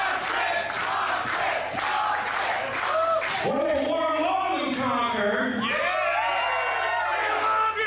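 Roaring wrestling arena crowd at a hardcore match event, loud chanting and rhythmic cheering swelling into sustained yelling and whooping from a large audience.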